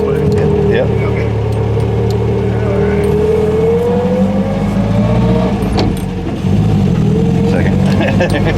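An MGA sports car engine revs and climbs in pitch under light throttle, close and loud, easing off briefly before picking up again while people talk in the car.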